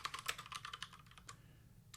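Quick bursts of keystrokes on a computer keyboard while typing Python code, close and soft, a rapid run of clicks that slows and trails off with one last tap.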